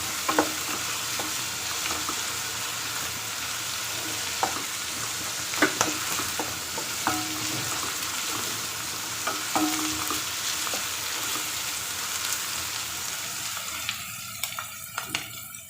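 Onions sizzle steadily in a hot pan for a green pea and potato curry, with a continuous frying hiss broken by scattered scraping clicks of a spoon stirring, close and without talk.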